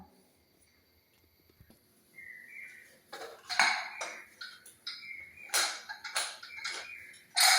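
A pressure cooker holding soaked green gram is set down on a stove with several sharp metallic clanks and clinks in a quiet kitchen, growing louder toward the end.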